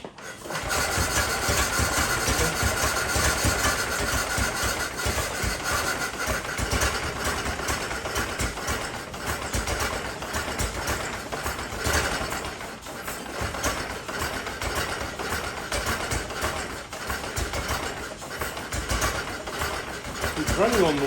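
A 1914 Model T Speedster engine, restarted after sitting for 51 years, runs loudly and unevenly on one or two cylinders, a steady close chugging that continues throughout while people talk over it.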